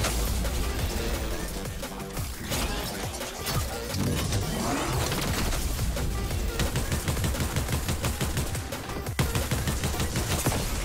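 Pump shotgun blasts and rapid gunfire in an intense video game firefight, loud and dense throughout with overlapping shots, impacts and engine-like noise, no speech.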